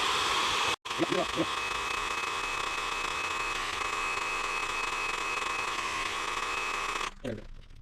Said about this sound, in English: Now I just have my wife's hairdryer again.